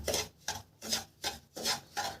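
Semolina roasting in a pan is stirred with steady back-and-forth scraping, about five rhythmic raspy strokes, close and clear with no talking.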